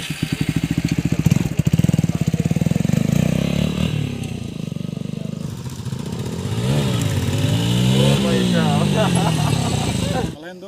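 A motorcycle fitted with a loud aftermarket exhaust, close by, idling with a rough, popping pulse, then revving up and down in several strong swells before cutting off sharply at the end.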